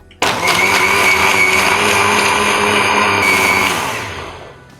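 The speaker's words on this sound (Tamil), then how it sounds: "இதெல்லாம் சேர்த்ததுக்கப்புறம் மறுபடியும் மிக்சியை இயக்கணும்" Electric mixer blender whirring through a lychee milkshake with cold milk, starting abruptly, running loud and steady near the listener, then winding down as the motor slows.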